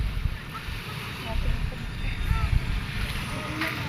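Steady low rumble of a motorized outrigger boat (bangka) on the water heading back to Burias, Philippines, with wind buffeting the microphone, continuous throughout.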